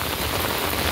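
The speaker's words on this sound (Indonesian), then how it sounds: "ketika terjadi hujan deras teman-teman" Heavy rain pours down on an Indonesian village, a dense, loud, unbroken hiss of drops drumming on surfaces close by with no voices over it.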